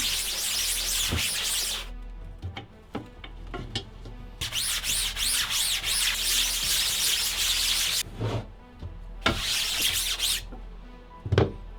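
Chemical being rubbed by hand into a screen-printing screen, bursts of bright scrubbing friction repeating in long strokes with quieter gaps and small knocks between, close and moderately loud.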